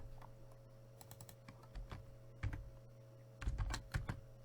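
Python code is typed on a computer keyboard in quiet, irregular bursts of soft key clicks, with a few louder taps, over faint background hum.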